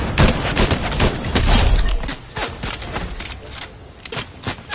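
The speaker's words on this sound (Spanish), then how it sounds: "Hay disparos para allá con Frankie." Rapid bursts of gunfire crackle through a PS4 shooter game, dense volleys of sharp reports overlapping in a loud, continuous fusillade for several seconds.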